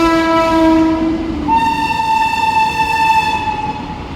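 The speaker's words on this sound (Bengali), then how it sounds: "ওদিকে ট্রেন আসছে, দেখাই দাঁড়াও।" A train sounding a loud, sustained horn nearby as it passes, the tone shifting to a higher pitch midway, with rumbling rail noise underneath and no talking.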